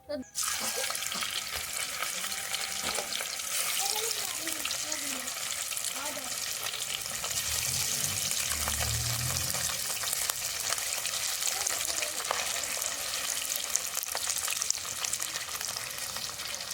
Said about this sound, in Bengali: দেখুন মাছের এক পিঠ ভাজা হয়ে গেছে